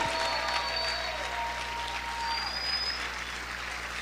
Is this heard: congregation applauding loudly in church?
yes